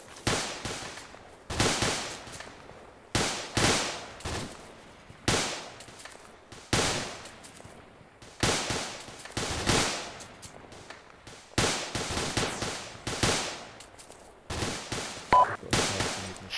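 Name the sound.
gunfire in a section assault training exercise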